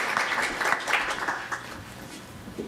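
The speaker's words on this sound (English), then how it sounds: "We use applause a lot here" A congregation at a church service applauds a presiding reverend, a soft, even wash of many hands clapping that gradually thins out.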